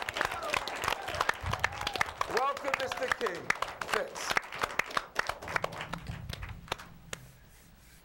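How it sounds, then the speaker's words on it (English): Studio audience at a late-night talk show applauds and cheers a guest, Keith Fitz, being welcomed on stage; steady clapping runs throughout under a host's voice, thinning toward the end. "Can we have a round of applause for Keith Fitz?"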